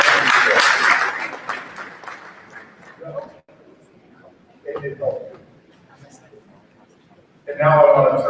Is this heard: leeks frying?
no